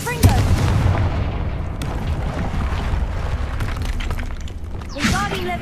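A Confringo blasting-spell explosion in the video game Hogwarts Legacy: a sharp, heavy boom right at the start that trails into a long rumbling roar, then a second fiery burst near the end.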